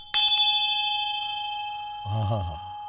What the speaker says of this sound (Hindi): जिनके लिए घंटी बज रही है।